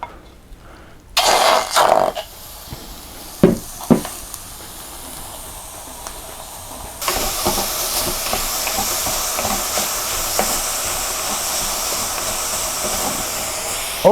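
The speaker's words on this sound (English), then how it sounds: "I just want to go ahead and start frying my meat." Loud steady sizzling hiss of meat frying without oil in a skillet on high heat, starting after a few clanks and growing denser and louder partway through.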